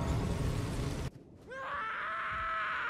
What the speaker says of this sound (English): That was a scream.